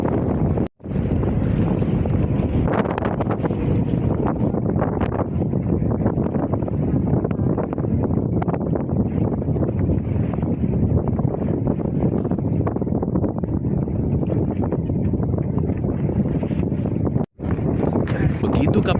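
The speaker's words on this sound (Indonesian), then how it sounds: "Kita naik kapalnya." A boat ride out to Penyengat Island: a constant engine drone and buffeting wind roar continue for a long stretch, loud and close, broken only by a couple of brief dropouts.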